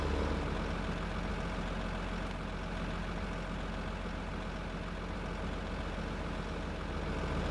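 Truck engine in Farming Simulator 15 on a Bayern map, hauling silage along a driven course: a steady, loud, low diesel drone that runs unbroken with no speech.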